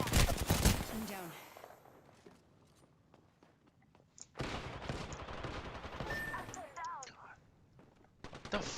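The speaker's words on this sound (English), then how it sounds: "I'm getting shot at" Bursts of gunfire in a battle royale game crack loudly at the start and again in a sustained volley midway, with faint footsteps and murmured voices between shots.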